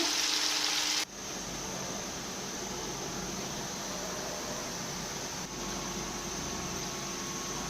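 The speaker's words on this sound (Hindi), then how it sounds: "प्याज़ों को हम गोल्डन ब्राउन होने तक फ्राई करेंगे।" Onions frying in oil for vegetable pulao give a steady, even sizzling hiss that holds unbroken after a brief opening sound, close and moderately loud with no talk.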